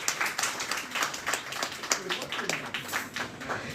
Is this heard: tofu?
no